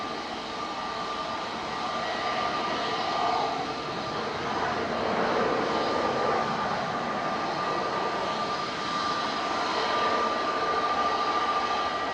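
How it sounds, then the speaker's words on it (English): An Etihad Boeing 787-9 Dreamliner arriving from Abu Dhabi lands at Manchester Airport, its engines giving a steady, distant roar that swells slightly midway and holds for several seconds with no voices. "About to touch down from Abu Dhabi."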